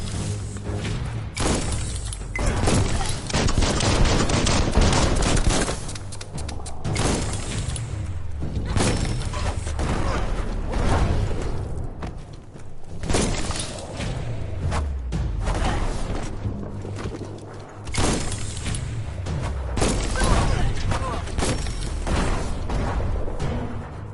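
Bomb lobber weapon in Biomutant firing repeatedly, loud thumping launches and crashing, shattering blasts following one another in an irregular rhythm, close and heavy with whooshes between, no voices.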